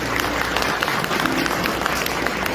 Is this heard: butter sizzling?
no